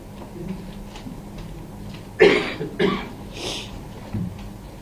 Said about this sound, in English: Sorry, I was coughing my way.